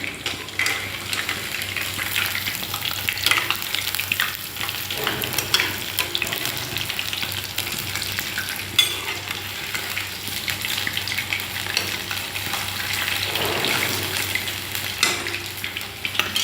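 Steady sizzling of moong dal, paneer and potato pakoras frying in hot oil, a continuous crackling hiss with occasional stirring, close and fairly loud throughout.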